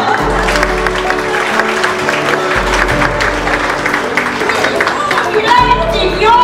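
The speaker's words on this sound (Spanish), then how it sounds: "Un aplauso, ¿verdad?" Audience applause at a testimonial gathering rises in a loud, dense wash of clapping mixed with crowd noise and talk, while a low musical hum pulses underneath.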